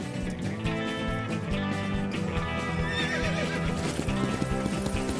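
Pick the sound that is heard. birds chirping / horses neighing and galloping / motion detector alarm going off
horses neighing and galloping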